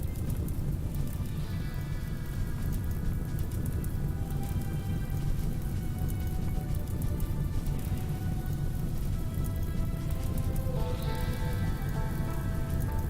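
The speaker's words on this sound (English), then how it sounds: "eventually there's the rain" Steady rain in the game Rimworld patters continuously on surfaces, a dense even hiss of droplets with no breaks.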